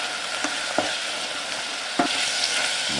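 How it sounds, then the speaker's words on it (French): White wine sizzles and bubbles steadily as it reduces in a hot pan for a homemade ravioli filling, with a few sharp utensil scrapes and stirs against the pan. "Alors on va le faire réduire, le vin blanc, pas à sec mais quasiment."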